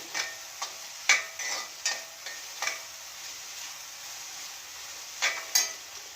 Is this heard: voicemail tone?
no